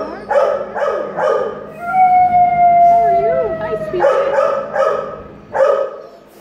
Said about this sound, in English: That's your friend barking.